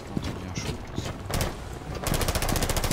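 Rapid gunfire in the tactical shooter game Rainbow Six Siege, with sharp bursts of shots that grow denser and louder toward the end, while players talk faintly underneath.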